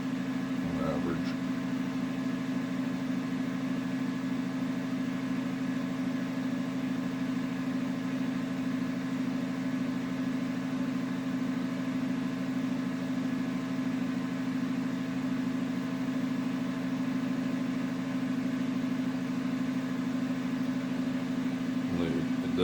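A homemade pulse motor runs steadily on a new driver circuit, giving a constant mid-pitched electrical hum with a faint buzz, unbroken and close, with brief clicks near the start and end.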